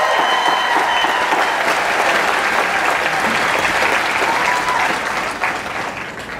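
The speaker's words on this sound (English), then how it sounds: "let's give another round of applause and thank the professors and staff for their work and dedication" A large graduation crowd claps loudly and continuously in honour of professors and staff, a thick wash of applause that fades near the end.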